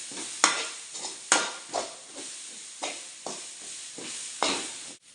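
Grated coconut sautéed in a pan, a spoon scraping and stirring it in regular sweeps over a steady sizzle, each stroke leaving a sharp scrape that then fades, close and moderately loud.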